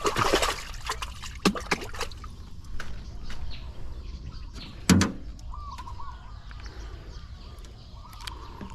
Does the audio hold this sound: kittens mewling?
no